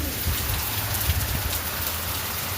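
Heavy rain pours steadily and loudly, a dense hiss of drops hitting surfaces nearby, continuous for the whole stretch with no talking.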